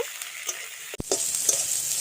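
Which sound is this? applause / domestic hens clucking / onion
onion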